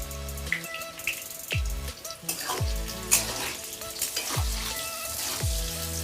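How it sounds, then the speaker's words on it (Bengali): Cut potatoes sprinkled with salt fry in oil in a wok, giving a steady crackling sizzle broken by a few dull knocks of stirring, close and fairly quiet. "দিয়ে আলুটাকে 2-4 মিনিট ভেজে নেব"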